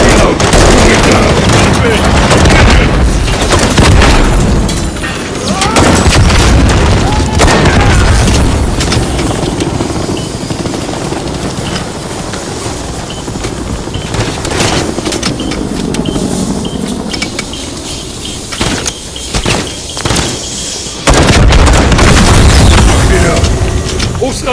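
Heavy gunfire and booming explosions during a Call of Duty Modern Warfare 3 campaign battle, with bursts of automatic fire and loud blasts rising and falling throughout, radio chatter and voices mixed in.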